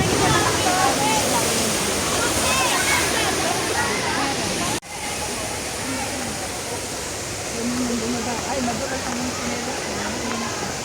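Rushing water at a waterfall in Nagcarlan, Laguna, a loud, continuous roar heard up close, with people talking faintly beneath it.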